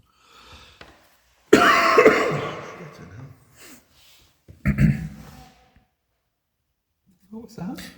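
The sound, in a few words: cough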